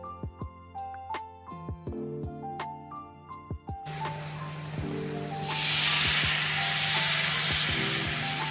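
Dosa batter cooking on a hot pan with a few light utensil clinks, then a steady sizzling hiss that starts suddenly and grows louder and brighter.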